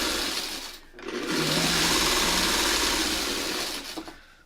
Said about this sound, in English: we've just finished sewing the stuff the way we need it to go